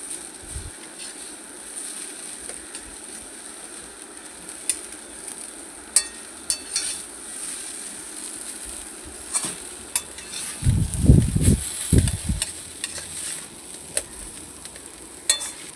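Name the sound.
stirring beetroot and sprouted green gram thoran in pan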